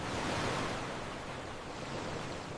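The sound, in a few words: sea waves on a beach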